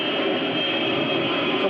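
Looped airplane sample playing back on an Ensoniq Mirage sampler, a steady continuous roar like jet noise at a busy airport, unbroken and even in level for the whole stretch.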